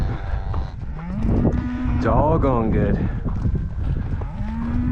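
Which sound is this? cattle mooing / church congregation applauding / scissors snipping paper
cattle mooing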